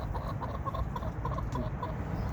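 Hens in a chicken run deep in wood chips give soft, scattered clucks over low rustling and background noise, moderately near and fairly quiet.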